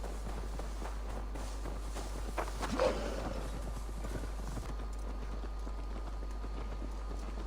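Steady hoofbeats of a horse moving at pace in Assassin's Creed Valhalla, a continuous clip-clop rhythm over a constant low background hum, with no talking.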